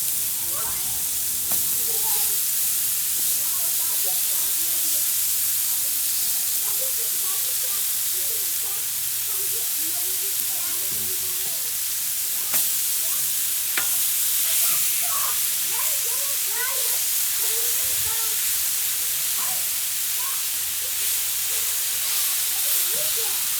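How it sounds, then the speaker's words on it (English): Thin seasoned cheesesteak meat sizzles on a 28-inch Blackstone griddle in a broad, continuous hiss that stays even throughout, with faint scraping and crackles mixed in. "And now we're going to throw our meat on that we have seasoned."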